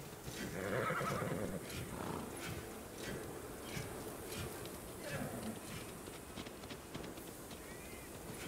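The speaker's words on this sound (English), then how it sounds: "By the way, this is my horse." A horse in the video game Immortals Fenyx Rising whinnies near the start, set against a steady bed of game ambience with soft hoof-like clops later on.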